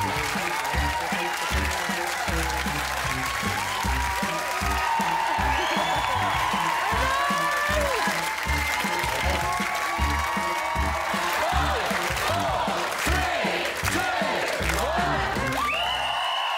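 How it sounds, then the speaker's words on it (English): A studio audience at a comedy panel-show task cheers loudly and continuously, as if watching a football match, with sustained applause, whoops and crowd noise filling the whole stretch. "cheer as if you're watching football"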